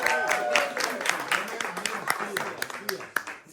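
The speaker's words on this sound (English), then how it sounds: "Let's give another round of applause to Joseph and his wife for hosting this wonderful event." A small audience at an artist show-and-tell event gives the hosts a round of applause, scattered, irregular claps of moderate loudness with voices talking alongside.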